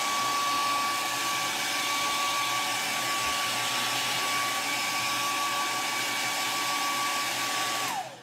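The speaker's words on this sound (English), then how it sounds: "I'm gonna hit it with the blow dryer." A blow dryer dries fresh red paint on holiday decor, running as a loud continuous whir with a steady whine for about eight seconds before switching off.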